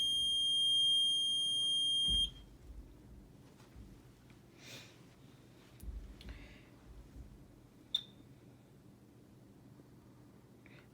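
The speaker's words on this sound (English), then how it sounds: "we'll go ahead and push the power on. And it's just gonna beep at us here for a second as it's turning on." A BiPAP breathing machine powering on sounds a loud, steady electronic alarm tone for about two seconds that cuts off abruptly, followed by quiet hum, a few soft clicks and rustles, and one short high beep.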